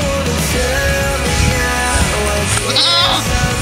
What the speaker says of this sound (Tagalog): Si kambing.